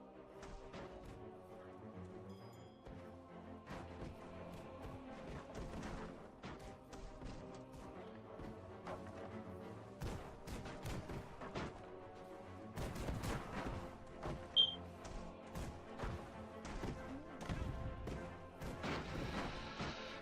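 Airship guns firing in Airships: Conquer the Skies, a long stretch of repeated cracks and crashing impacts over a steady low rumble, busier and louder in the second half.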